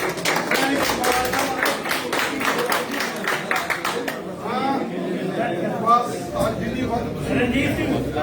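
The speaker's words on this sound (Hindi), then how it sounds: "जोरदार तालियां सर के लिए" Clapping and chatter from a crowd at a political gathering at a party headquarters, as youth leaders join the party; the dense broadband hits fill the first half, then thin into murmuring voices and scattered sounds.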